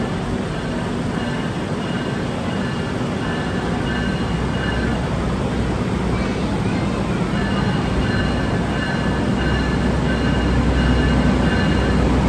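The Argo Merbabu train arrives at a station platform as a steady, loud rumble and roar of rolling cars that holds without a break for several seconds.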